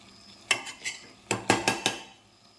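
A spoon scrapes and clinks against a pot while a mutton mixture is stirred in hot oil, with a series of sharp metallic knocks in two clusters.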